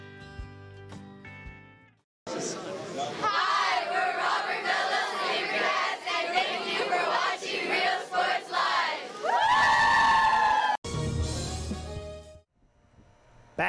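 A big crowd at a high school football game between Mercedes and Edcouch Elsa, roaring and cheering loudly for several seconds, with shouts and whoops and a brief swell near the end before fading.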